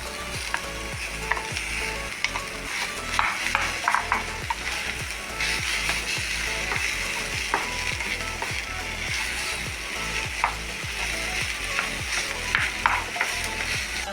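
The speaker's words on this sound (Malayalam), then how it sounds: "നമ്മൾ വേവിച്ച് വെച്ച കൊള്ളി ഇതിലിടാം" Cooked tapioca (kappa) being stirred and tossed in a pan for Kerala thoran, with repeated close scraping, clicking and light sizzling of a spatula against the pan in an uneven, busy rhythm.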